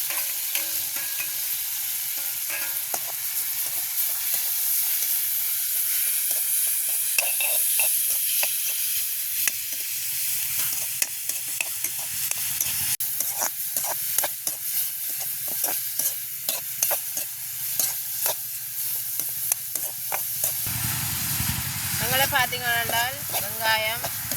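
Squid frying in oil with onion and green chillies in a home kitchen: a steady hiss and sizzle runs throughout, with scraping stirs and clatter on top, close to the pan, while a person talks over it.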